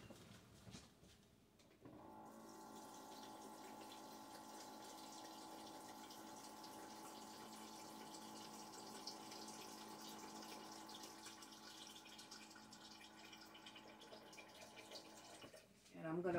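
Water runs from a kitchen tap in a steady, close rush for about fourteen seconds while brine for fermenting vegetables is topped up, starting and stopping cleanly.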